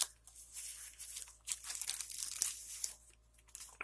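Knife slicing through a sticker on Glock 19 slide packaging, making close, crinkly tearing and crunching bursts with brief pauses between strokes.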